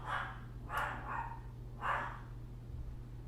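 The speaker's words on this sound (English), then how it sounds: "Why are my dogs barking?" Dogs bark in short bursts at a distance indoors, three or four separate barks spaced over a few seconds above a steady low hum.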